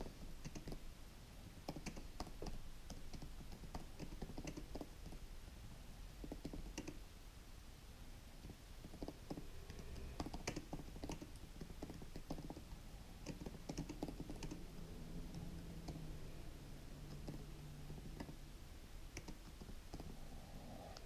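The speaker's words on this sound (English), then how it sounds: "and I'm just going to type like I normally would." Typing on a 2016 15-inch MacBook Pro keyboard, a steady stream of soft, close key clicks and taps at an unhurried, uneven pace for about twenty seconds, with no talking.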